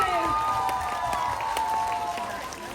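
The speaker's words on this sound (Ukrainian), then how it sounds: "Ваші оплески!" Audience applause fills the clip, a steady dense wash of clapping with a crowd murmuring underneath.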